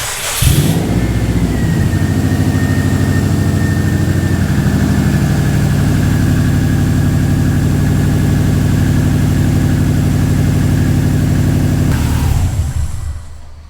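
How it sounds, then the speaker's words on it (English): A 2002 Subaru WRX with a freshly reinstalled fuel tank cranks briefly, fires up and settles into a loud, steady idle close by, then shuts off near the end. "So let's go ahead and fire this up and just make sure it doesn't seem like we have any leaks"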